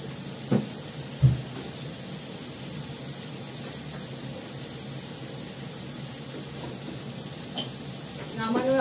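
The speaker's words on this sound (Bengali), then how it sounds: "খোলা অবস্থায় আমি কষিয়ে নিয়ে যাব," Hilsa fish curry is sautéed uncovered in a pan, a constant soft sizzle with a few sharp clinks of the spoon against the pan, fairly close and steady throughout.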